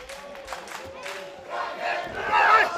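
Wrestling crowd at a live Full Throttle show in Perth, roaring and cheering; noise starts moderate, then swells louder and denser during the second half, with scattered shouts over a steady crowd bed.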